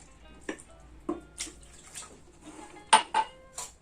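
Flour and water stirred in a bowl, with a utensil clinking against the bowl in scattered sharp knocks and scrapes amid quieter wet mixing, close by and irregular.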